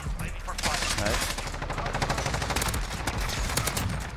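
Dense, continuous automatic gunfire from an AN-94 rifle in the video game Modern Warfare, loud and close, with the rapid shots blending into one sustained roar for about four seconds.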